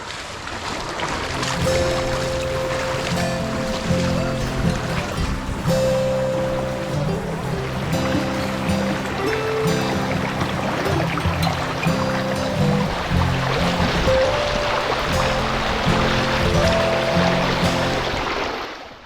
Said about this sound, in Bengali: পানির কম হলেও পানির স্রোত অত্যন্ত অর্থাৎ হাঁটা যাচ্ছে না এতটুকু পানির স্রোত এখানে